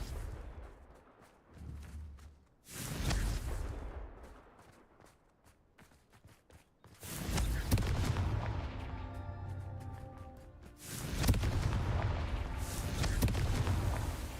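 Confringo blasting spell cast in Hogwarts Legacy: several loud fiery explosions in bursts, each followed by crackling debris and rumble, interspersed with quieter footsteps and clicks, with no talking.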